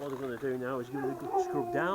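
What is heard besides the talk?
dog howling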